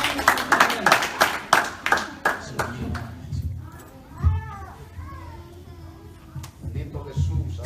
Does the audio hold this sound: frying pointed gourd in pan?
no